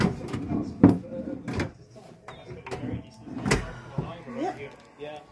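Hotel room drawers at a resort in Orlando slid open and shut several times, with close wooden thumps and scrapes spread through the clip while people talk nearby.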